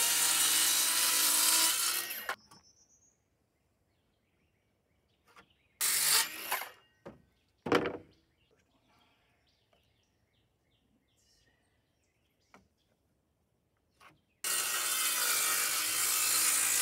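Handsaw cutting a wood board to size for a front basket on a Honda Rancher ATV, heard in a few short bursts between long stretches of quiet, with a louder sustained rasp at the start and end.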